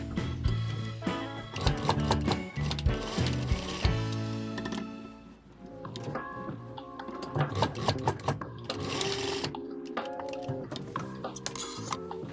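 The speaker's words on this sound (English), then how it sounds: "Sew the base tape to the side seams." A sewing machine stitches base tape onto the side seams of a fabric tote bag in bursts of rapid mechanical stitching, close and fairly loud, with short pauses between runs.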